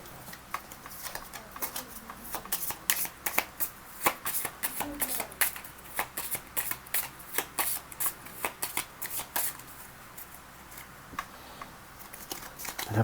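Oracle cards are shuffled by hand in a steady run of crisp riffling slaps and flutters, close and fairly loud, with a faint murmur underneath.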